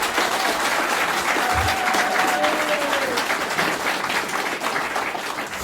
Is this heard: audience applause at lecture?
yes